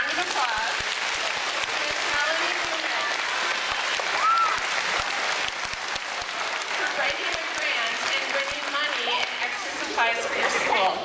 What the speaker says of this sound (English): So let's all give a big, huge round of applause.